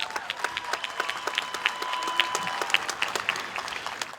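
An audience at a high school graduation ceremony applauds the band and choir singers, a dense, steady wash of many hands clapping with some crowd noise mixed in.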